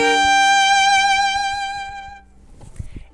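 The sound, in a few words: bowed string three-note chord played faster with bow shaping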